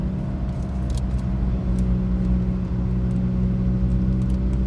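Steady low engine rumble and road noise from a car cruising on local roads, continuous and fairly loud with a constant hum and no speech.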